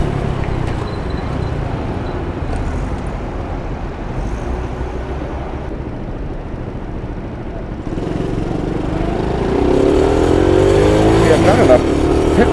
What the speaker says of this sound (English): You've got to work your way up by revving it high in each gear